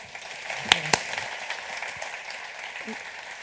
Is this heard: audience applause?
yes